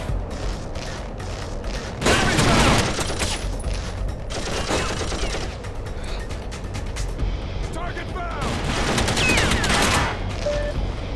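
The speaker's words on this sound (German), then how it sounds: "Jetzt hat er mich von da hinten geschossen" Sustained gunfire and explosions from the first-person shooter TimeShift, dense bursts and booms running throughout at steady loudness, with someone talking over the action.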